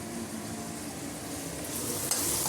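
Mango sambar ingredients with added water are stirred in a pan, giving a steady, moderately loud bubbling and sizzling wash with no clear individual strokes, swelling slightly near the end with one brief knock.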